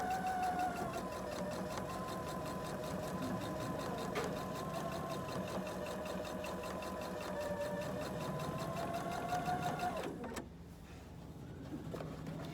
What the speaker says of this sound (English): now I should be able to go ahead and just sew up the side